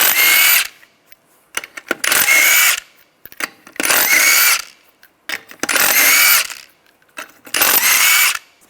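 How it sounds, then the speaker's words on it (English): A power tool with a 19mm socket removes the lug nuts from a 2005-2007 Ford Five Hundred wheel in five loud, close whirring bursts of about a second each, separated by short pauses. "Use a 19mm socket, take the lug nuts off."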